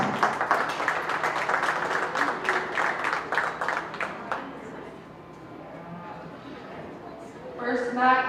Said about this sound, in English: let's give both those exhibitors a nice big round of applause